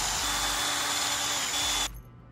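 A power tool whirs steadily at close range while removing the sprocket from a Losi ProMoto MX RC motorcycle, then cuts off abruptly near the end, leaving faint background noise.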